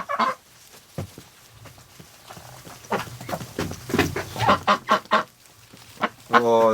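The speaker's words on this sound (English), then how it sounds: "Cute little duckies." A flock of ducks, including drakes, quacks and honks in a sheltered pen on a cold day, with scattered calls close by that grow busier toward the end and a voice speaking briefly among them.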